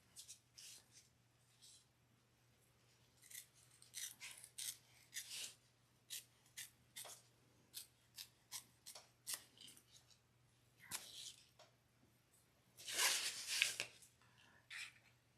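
Scissors cutting a temporary tattoo overlay, a series of crisp, close snips in an uneven rhythm, with a longer burst of sharp cutting near the end, in an otherwise quiet room with a faint low hum.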